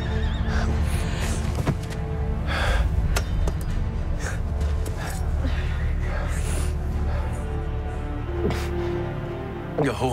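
Horse neighing amid a panicked crowd scene in a period drama, with a loud whinny among shouting, hoofbeats and commotion throughout.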